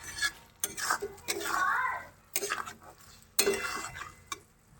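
Chilli chicken sauce with sugar stirred in a pan, giving soft bursts of scraping and clinking from a spoon against metal, a few strokes in a row with a faint sizzle between them.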